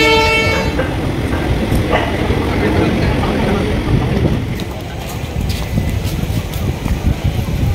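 A train pulls into a small village station on a monorail line, its loud rumbling and rattling carrying on continuously and easing slightly toward the end, with a brief horn-like tone at the start.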